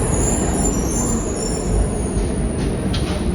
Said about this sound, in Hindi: अभी ट्रेन आती है, ट्रेन आपको दिखाते हैं